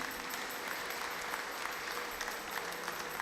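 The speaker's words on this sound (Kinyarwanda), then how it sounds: "tubakire, tubaha amashyi n'impundu" A church congregation applauds, a steady, moderately faint patter of many hands clapping continuously with no voices over it.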